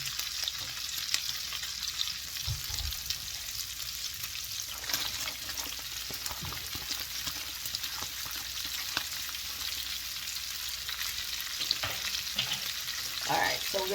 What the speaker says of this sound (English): I'm going to add my onions in at this point and let both of them cook together.